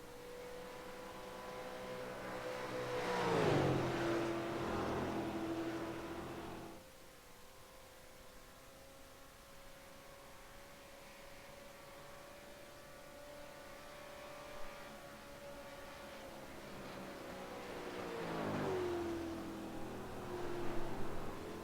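Super late model race car engines in the iRacing sim at Michigan, loud passes with a rising then falling pitch as cars sweep by near the start and again near the end, a steady droning engine tone holding between them.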